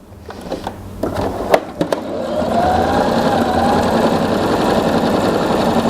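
A MESSINA Paris P5832 portable sewing machine runs in a steady, continuous whir after a few sharp clicks at the start, close and fairly loud, with no talking.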